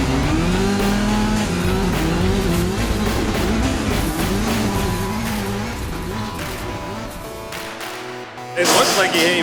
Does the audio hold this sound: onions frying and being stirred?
no